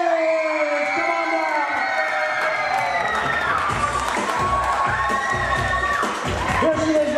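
A crowd at a bat mitzvah cheers and applauds loudly, with high excited shouts and whoops rising and falling over sustained clapping.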